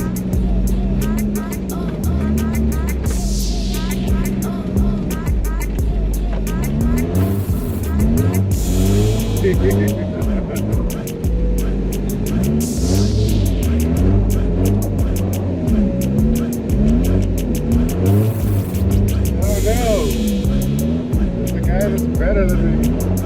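A Nissan D21 Hardbody pickup drifts on a frozen lake, its engine revving and surging in repeated swells, loud and close, while people talk and exclaim inside the cab.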